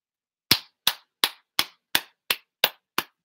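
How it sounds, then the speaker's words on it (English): Eight sharp, single hand claps at a steady, even rhythm with silence between each, close and crisp, no talking. "Clap for that."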